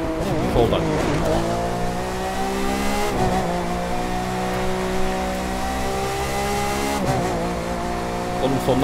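Race car in The Crew 2 driving at steady high revs with tire squeal, the engine drone shifting pitch as the car slides and loses control, loud and continuous.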